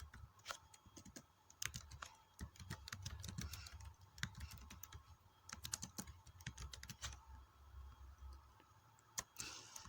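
Someone types an SQL query on a computer keyboard in phpMyAdmin. Quick, uneven clusters of key clicks come close by and fairly quietly, with short pauses between bursts.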